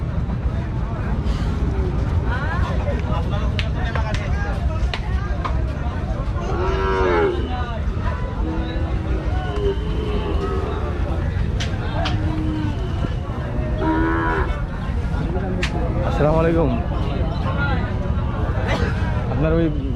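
At a crowded Sunday livestock market in Rajshahi, cattle and calves moo repeatedly, some calls close and loud, over constant crowd chatter and general bustle.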